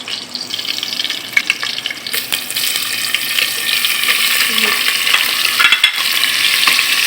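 Half a batch of onions for mutton bhuna frying in a pan over high heat, a close, loud sizzle that starts lighter and swells into a dense, steady hiss with stirring scrapes.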